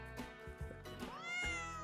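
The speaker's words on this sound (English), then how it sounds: "Cat. It's a cat. It's an orange cat." An orange cat meows close by, giving a few short, fairly quiet cries and then one drawn-out call that rises in pitch. No one talks over it.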